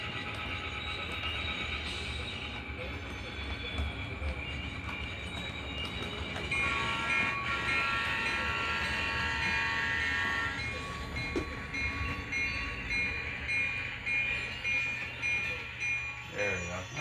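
Diesel locomotive switching rail cars for an Armstrong Electric and Heritage Furniture turn: steady engine rumble and rail noise with a held horn-like tone midway, some talk underneath.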